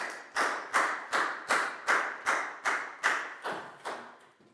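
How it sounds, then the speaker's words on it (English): A classroom of young students gives a round of applause for a classmate, heard as about ten evenly spaced, loud unison claps in a steady rhythm, each one ringing briefly in the room. "High five and a big round of applause for Pangpon"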